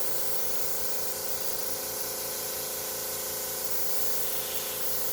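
An airbrush sprays alcohol ink onto a surface for flower petal art, giving a continuous, close, even hiss that holds steady throughout with no pauses and no talk.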